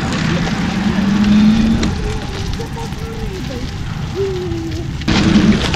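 A trike rides along the foreshore, recorded on a GoPro 8 with a Saramonic microphone, giving a constant close engine drone mixed with heavy wind buffeting and a few sharp bumps.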